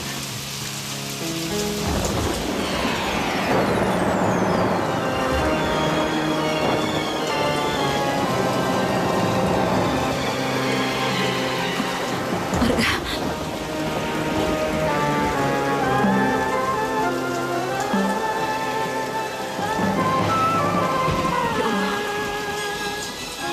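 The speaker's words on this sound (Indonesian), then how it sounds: "Hujan deras sekali." Heavy rain beats down steadily and loudly throughout, with a rumble of thunder partway through and no voices.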